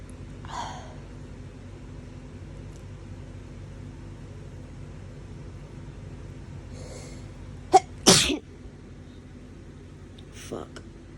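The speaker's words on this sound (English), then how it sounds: "You're sneezing everywhere." Hay fever sneezes burst out nearby: a soft one early, a pair of sharp, loud sneezes in the middle and a smaller one near the end, with breathy gasps between and a little talk around them.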